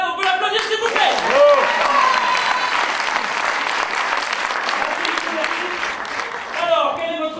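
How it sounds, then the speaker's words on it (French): An audience breaks into sustained applause, a dense wash of clapping that holds for several seconds, with voices calling out briefly at the start and end. "on peut l'applaudir s'il vous plaît"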